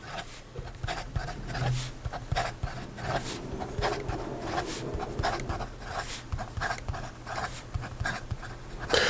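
A Montegrappa Passione fountain pen writes quickly on paper, giving a close, continuous scratchy scratching with rapid strokes and small taps, with no talk over it.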